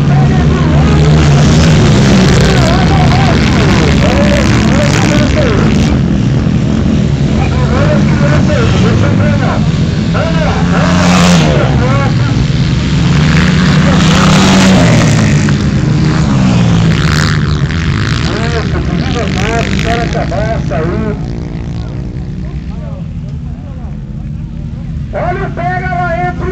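Velocross motorcycles racing on a dirt track in Pontal do Sul, Paraná, including a Honda, engines droning and rising and falling as bikes pass during a promotional practice, with an excited commentator talking over them.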